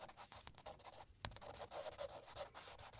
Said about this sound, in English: Let me just write it down.